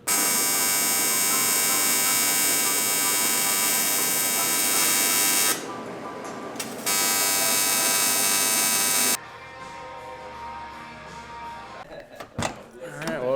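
MIG-style welding of a bung fitting on a Mazda FD RX-7 makes a loud, steady electric buzz that breaks off briefly, resumes, then stops, leaving quieter shop noise and a few clunks.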